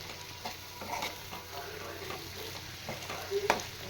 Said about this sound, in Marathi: छान असं तेल सुटेपर्यंत हा मसाला आपल्याला परतवून घ्यायचा आहे थोडा वेळ